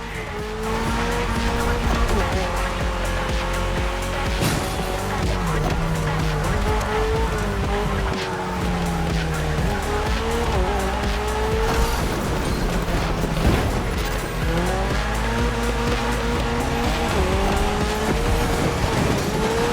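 A Mitsubishi Evo X tears through a Motorfest racing game, its engine revving up and down in loud, repeated sweeps while tires squeal and skid throughout, with no break in the noise.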